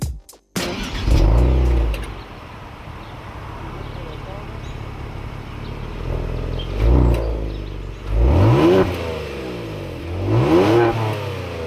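A Kia Stinger sports car heard from inside the cabin, its engine surging through several rising revs under a steady road rumble, with people talking over it.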